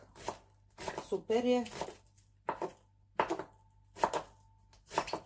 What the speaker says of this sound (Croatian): Isto tako i ovaj drugi luk. Ima da ga iseckam.